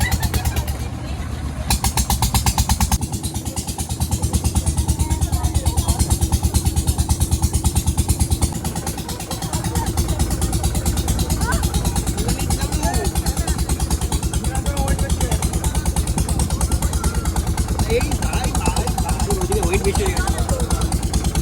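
A boat engine drones steadily and loud throughout a ride near Lalgunj sea beach, a constant close mechanical rumble with people talking over it.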